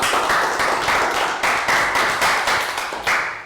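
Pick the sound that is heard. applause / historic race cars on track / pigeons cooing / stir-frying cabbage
applause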